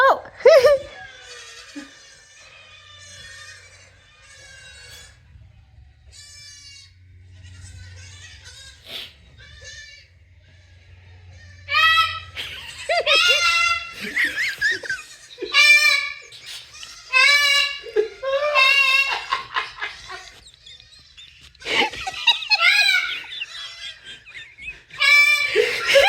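A parrot imitates baby goat bleats with repeated shrill, wavering cries in bursts, mixed with quiet talking and laughter from people nearby.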